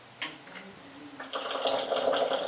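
Water poured from a cup into a bowl of soaked, peeled beans for akara batter, a close, steady splashing pour that swells louder toward the end.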